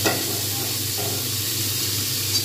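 Ground coriander, ground cumin, green chilli and hing hit frying potatoes in a pan for a Kolkata papad dalna, giving a loud, steady close-up sizzle and hiss with no pauses.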